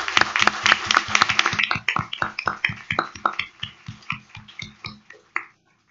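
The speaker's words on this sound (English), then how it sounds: "let's give them a big round of applause" City council audience applauding a group of young ladies: a burst of brisk, fairly close hand claps that thins out into scattered individual claps and fades to silence.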